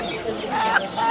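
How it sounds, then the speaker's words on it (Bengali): Native village chickens clucking at a rural market in Dohar, Dhaka, Bangladesh, a few short close clucks and squawks over a busy background while someone talks. "এগুলো হচ্ছে দেশি অরিজিনাল এই মুরগি"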